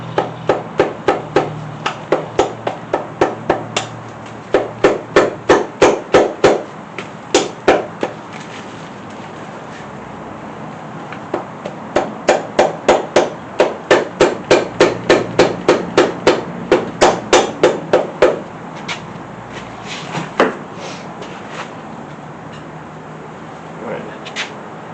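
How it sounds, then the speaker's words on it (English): Repeated sharp taps in quick bursts, a small rubber hammer knocking on metal parts of a Chevy 350 small-block engine, with short pauses between runs of strikes, close and fairly loud. "let me grab my little rubber hammer"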